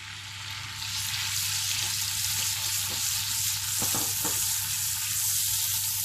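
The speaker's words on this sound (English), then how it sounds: "Saute it a little, and this is all on high flame" Ginger garlic paste with whole spices, including black cardamom, sautéing on high flame, a loud, continuous close hiss and sizzle with a few brief stirring scrapes.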